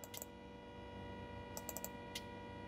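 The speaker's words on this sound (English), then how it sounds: "I can hear something clicking when I do this inside the car" A few faint, quick clicks repeat in small clusters over a steady low hum inside a concept van when trying to start it, no voices.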